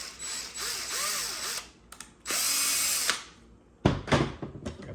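Power drill boring into the back of a metal part for a 1/6 scale tracked bulldozer model, with several close bursts of whining spin and grinding that start and stop, separated by short pauses and clunks of handling.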